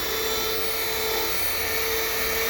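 Sanding disc on a power tool smoothing out lines and scratches on a dome, a continuous high-pitched whirring whine with a steady gritty hiss, close and unbroken.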